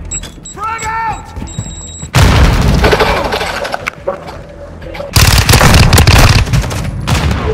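Heavy booms and bursts of gunfire from a Call of Duty: Modern Warfare II battle, with a frag grenade blast among loud, dense explosions, radio chatter and voices over the combat.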